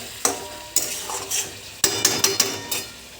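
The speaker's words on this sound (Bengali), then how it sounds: "এখানে মটন কষতে শুরু করে দিয়েছি" Mutton kosha is stirred and fried in a pan: a spoon scrapes and knocks against the pan in a quick series of sharp strokes over a soft sizzle, close up, with no talking.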